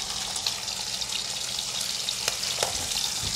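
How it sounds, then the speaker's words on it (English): Thin bacon slices fry in a pan with a bright, continuous sizzle, sprinkled with small pops and sharper crackles, close and steady, with no talking. "Fry up a few of the thin slices. All right, thin slices of bacon."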